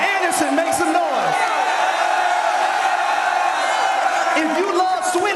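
A college football stadium crowd at Alabama versus LSU cheers, roars and whoops in a loud, sustained wall of noise with no letup.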